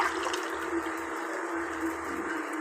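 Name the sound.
pouring drumstick cooking water into a pot for rasam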